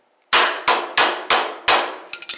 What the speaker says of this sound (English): Tap it with a pliers or something.